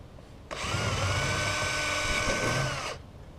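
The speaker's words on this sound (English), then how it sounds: "now I'll try and grind out or drill out these rivets" A power drill whirs steadily for about two and a half seconds, close and loud, starting and stopping abruptly as it drills out rivets on a boat transom.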